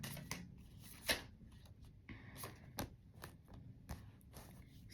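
Tarot cards are shuffled and drawn close by: soft, quiet riffles, flicks and papery slaps in an irregular rhythm, with no talking.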